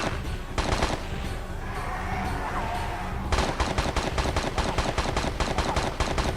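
Rapid bursts of automatic gunfire in Tomb Raider 3, a quick burst early on, a brief lull, then a long dense run of sharp repeated shots.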